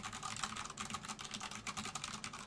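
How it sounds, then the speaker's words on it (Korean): Quick, light clicks of keys being typed on a computer keyboard, a rapid irregular patter heard alone and fairly quiet. "키보드 쳐보면"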